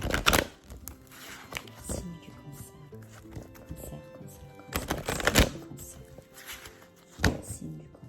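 A tarot deck being cut by hand, with soft papery slaps and a few sharper card snaps over low background music, no speech.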